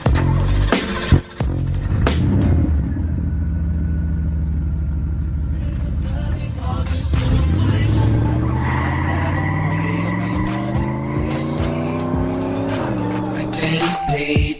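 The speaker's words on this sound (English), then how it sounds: "I'm cranking this car up." A car starts up and pulls away, engine revving and rising in pitch with tire squeal and skidding, loud and close throughout, ending in further acceleration.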